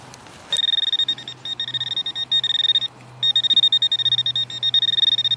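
A metal detector sounds a repeated pulsing electronic tone over a buried target, loud rapid warbling bursts in broken runs with short gaps, alone and close.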